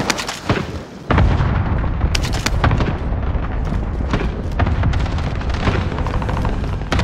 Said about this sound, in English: Bring on the airstrike. Got your request. Cluster strike is active.